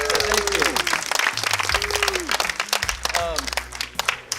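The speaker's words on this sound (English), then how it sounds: "So give yourselves a round of applause." Wedding guests applaud in a continuous burst of clapping across the room, while someone speaks over it at close range.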